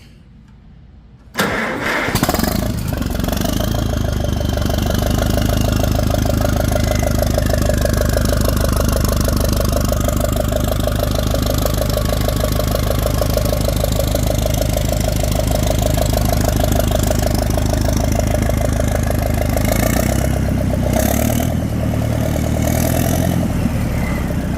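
A 1953 Farmall Super M tractor fitted with a Keystone turbo kit cranks and fires, then settles into a loud, steady, throbbing idle that runs on evenly for over twenty seconds with no talking.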